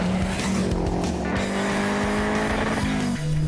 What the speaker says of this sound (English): our next car is the uber chic Renault 5 GT Turbo.